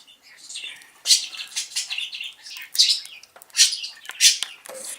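A pet budgie chirps and twitters near a pumpkin feeder, bursts of high, scratchy tweets and squawks in quick irregular succession, close and fairly loud, with a little faint rustling.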